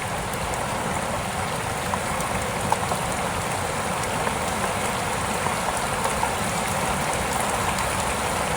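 Steady rain falling outdoors, a constant dense patter with running water mixed in, even and unbroken throughout.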